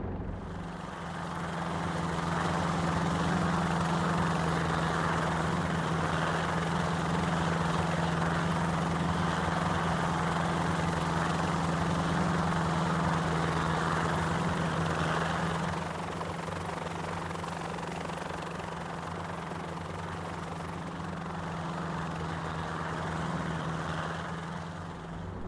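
A Schweizer S300CBi helicopter in X-Plane 11 gives a steady, loud engine drone with a low rotor hum, holding nearly constant and easing slightly partway through, with no voices.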